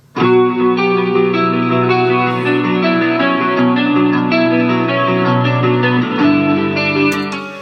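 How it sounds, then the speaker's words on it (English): Soloed clean electric guitars ring out with a bright, bell-like, layered tone and a touch of reverb, a steady sustained chordal figure, loud and close with no voices. "So when I solo out just those guitars, you can get a better feel for just how pristine that sound is."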